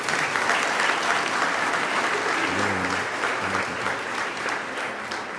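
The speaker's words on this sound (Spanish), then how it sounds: "Fuerte aplauso para ellos." Congregation applause during a Sunday Catholic Mass, a steady broadband wash of many hands clapping that fills the whole stretch at moderate level, with a low hum or tone briefly underneath midway.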